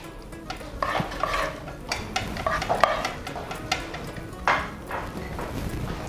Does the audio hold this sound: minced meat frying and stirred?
yes